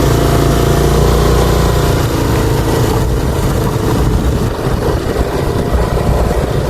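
Motorcycle engine running close to the microphone on a road trip in Bohol, a loud, steady mechanical drone that holds throughout with a slight dip midway, no voices over it.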